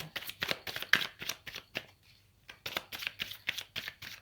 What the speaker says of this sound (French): je vais prendre 3 cartes pour voir si on a des choses complémentaires